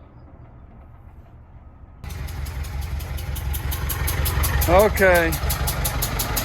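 A Clark Perkins diesel forklift engine with freshly swapped injectors starts up after two seconds of quiet and then runs loud and steady with a rough, throbbing idle, close by, while someone speaks briefly.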